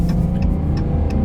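A Dodge Challenger SXT with the Pentastar V6 engine accelerates, its steady, loud, low engine drone heard up close throughout the short stretch.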